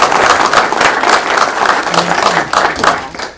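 A crowd at a county commissioners court meeting gives a loud, steady round of applause, dense rhythmic clapping close by that carries on without pause, with a brief murmur of voices underneath.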